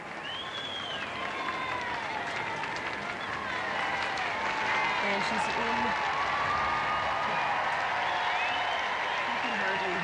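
A stadium crowd cheers and applauds steadily at a Calgary Highlanders military ceremony presenting new Queen's Colours, a broad roar of clapping and voices that swells slightly and holds, with a commentator talking over it and occasional shrill whistles.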